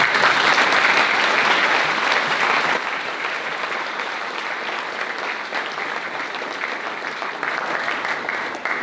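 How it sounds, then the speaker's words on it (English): Broad applause from a school audience at a Founders Day assembly, dense and steady throughout, slightly louder at first and then settling to a sustained level. "Thompson a big round of applause?"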